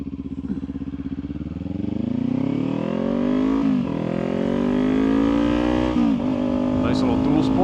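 A dual-sport motorcycle passes nearby, its engine note rising in pitch as it accelerates with a loud, buzzing drone, then holding steady and shifting through gears.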